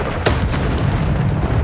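A fire spell cast in Hogwarts Legacy bursts in with a loud, full whoosh and roar that holds steady for under two seconds, with no speech.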